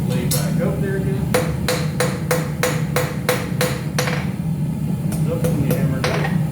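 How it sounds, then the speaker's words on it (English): Rapid series of ringing hammer blows on hot metal over an anvil while forging a Christmas decoration, about a dozen evenly spaced strikes, a pause, then a few more, over low background rumble. "Up when you hammer it out."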